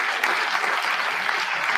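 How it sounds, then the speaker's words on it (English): An audience at a live panel show claps, a dense, steady wash of applause from a crowd, loud and continuous throughout the short stretch. "Please give another huge round of applause."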